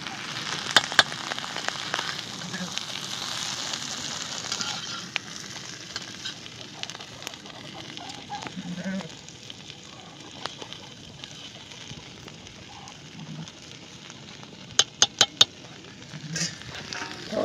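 Stuffed okra, Marathi bharli bhendi, sizzles gently in a pan while it is turned and stirred, a low continuous fry broken by a few sharp clicks of the utensil against the pan near the end.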